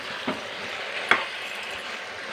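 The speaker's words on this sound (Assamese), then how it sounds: "এতিয়া মই চিকেনখিনি আকৌ লৰাই দিছোঁ" Chicken stirred in a kadhai, with a steady soft sizzle throughout and a couple of brief spoon scrapes and clinks against the pan.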